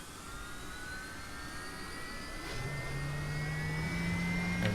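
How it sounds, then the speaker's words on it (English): A jet engine in an Aerobask ViperJet LXR spools up during start in X-Plane 10, a rising whine climbing steadily in pitch, joined partway through by a low steady hum as the engine catches, with no talk. "And we're ready to start this engine up."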